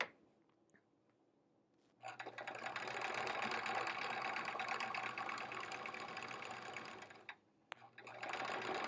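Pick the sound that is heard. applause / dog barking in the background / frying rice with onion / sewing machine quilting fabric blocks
sewing machine quilting fabric blocks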